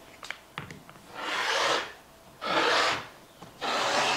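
Scissors trim the uneven edge of quilt fabric for a rag quilt, heard as three close, soft rasping cuts of about a second each, with a few light clicks and taps before the first.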